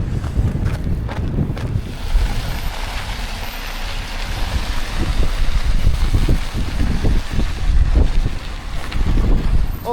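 Strong, gusting wind buffets the microphone at a campsite during an icy winter storm, with a loud, continuous roar that rises and falls and has no talking over it.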